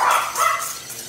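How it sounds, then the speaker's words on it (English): Excited dogs in a home kitchen let out a quick series of two or three close, sharp barks and yips, loud and alone. "They love to bark. So every so often they're gonna bark."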